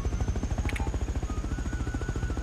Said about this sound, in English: this is like an attack chopper